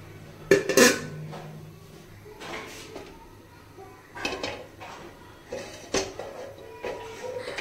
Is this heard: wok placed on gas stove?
yes